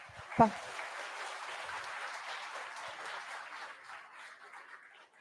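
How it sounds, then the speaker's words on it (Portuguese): Audience applause at a business management seminar, a steady wash of clapping preceded by a sharp knock, gradually thinning toward the end. "Uma salva de palmas"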